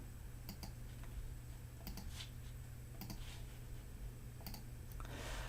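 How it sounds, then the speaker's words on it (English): Computer mouse clicks while switching between browser tabs, several sharp, sparse clicks at irregular intervals over a steady low electrical hum, fairly faint and close. "I was clicking over tabs to find it."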